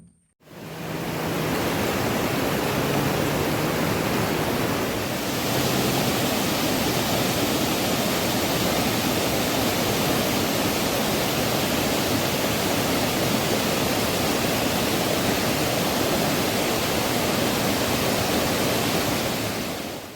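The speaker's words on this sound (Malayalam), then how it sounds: "ഇവിടുന്നങ്ങ് മുകളിലേക്ക് നീണ്ടു നിവർന്ന് കിടക്കുകയാണ് കടവപ്പുഴ വെള്ളച്ചാട്ടത്തിന്റെ ഭാഗങ്ങൾ" Kadavupuzha waterfall in Kottayam, Kerala, running low in the dry season, gives a steady, broad rushing roar of falling water that stays loud and unchanging, with no voices.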